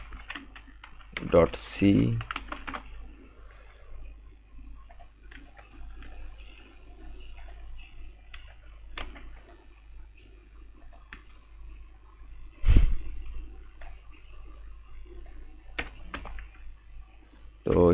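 Computer keyboard clacking in scattered bursts as a C program is typed, light key taps with louder thumps now and then, under a voice speaking quietly.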